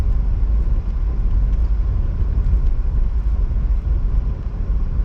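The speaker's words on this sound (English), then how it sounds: "Other than that little washboarded area on the road, which is fine. It sounds worse than it actually is for your car." A car drives along a washboarded dirt road in White Sands National Park, giving a continuous loud low rumble and vibration heard from inside the vehicle.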